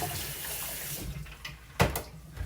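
Tap water runs steadily into a sink as hands are washed beneath it, a close, continuous splash and rush that swells briefly near the end.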